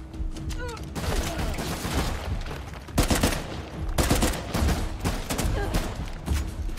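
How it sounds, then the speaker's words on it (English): Burst-fire gun shots in Uncharted: The Lost Legacy, sharp repeated reports in clustered bursts, loud and close, with sounds of combat around them and a voice briefly present. "It's a semi burst fire."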